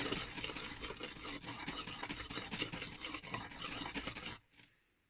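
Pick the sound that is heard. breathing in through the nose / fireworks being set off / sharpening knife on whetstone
sharpening knife on whetstone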